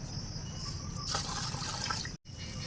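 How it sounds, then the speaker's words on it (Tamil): Steady stream of water pouring and splashing into a bucket, continuous and close, with a brief cutoff near the end. "மூணு லிட்டர் தண்ணி ஊற்றிட்டோமா"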